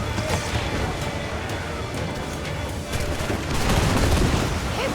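Ship cannon fire during a naval battle in Assassin's Creed Black Flag, loud rapid volleys of booming shots over rushing sea and surf, growing heavier toward the end.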